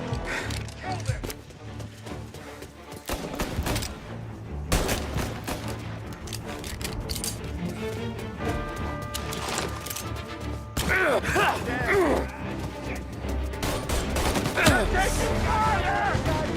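Gunfire in a Mafia: Definitive Edition shootout: dense bursts of shots and rattling automatic fire, with crashes and mechanical clatter under shouted voices throughout.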